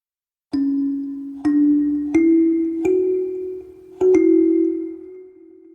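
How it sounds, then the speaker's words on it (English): A traditional African kalimba plucks five notes one after another at an unhurried pace, each warm metallic tone ringing on and overlapping the next, close and clear. "A traditional one from Africa that sounds like this."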